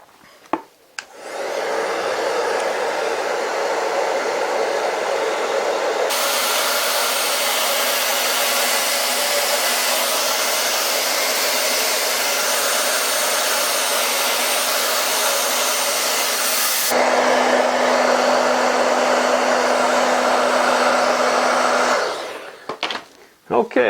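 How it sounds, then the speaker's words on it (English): Hair dryer on its hottest setting warming Sno-Seal on leather wading boots: a loud, steady close whoosh running about twenty seconds, its pitch and intensity shifting as it is moved, with clicks as it switches on and off. "I've used a hair dryer on the hottest setting, and I've heated this up, the Sno-Seal, as I go along"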